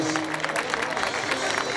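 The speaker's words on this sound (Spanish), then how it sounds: "Aquí viene, fuerte los aplausos." Crowd applause at a children's carnival queen presentation in San Miguel, steady broadband clapping throughout with a faint tonal music or voice line underneath.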